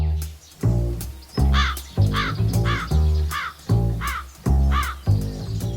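Repeated loud crow caws, about six harsh calls in a steady rhythm close by, each followed by brief pauses, with no talk over them.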